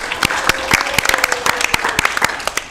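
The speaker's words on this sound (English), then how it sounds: "So we want to give them a round of applause." Applause for young library helpers at a Sacramento Public Library meeting: a brief burst of scattered hand clapping from a small group, sharp uneven claps running steadily for a few seconds.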